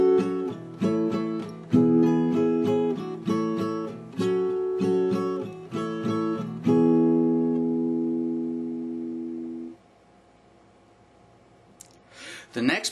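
An acoustic guitar strummed with the thumb in an A-shape voicing, playing a song: rhythmic chord strums for about ten seconds, ringing out and fading, with faint handling noise at the end.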